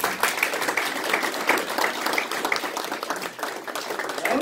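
Audience applause for two state representative candidates at a Saline County Republican party meeting: sustained clapping from a room of people, steady throughout with slight swells.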